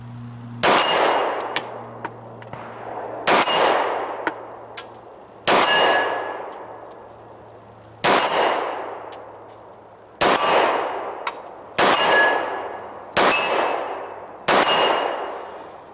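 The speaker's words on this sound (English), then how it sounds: "you can see I'm just, I'm able to ring consistently with a relatively short barrel here" An XDM 45 compact pistol fires eight single shots, each a sharp crack followed by a long ringing decay from a steel plate at 25 yards, spaced a second or more apart outdoors.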